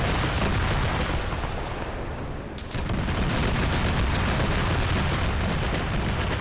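Heavy gunfire and artillery in a WW2 St Nazaire raid battle game, a dense continuous barrage of close, loud shots and blasts with a brief dip midway before the firing surges back.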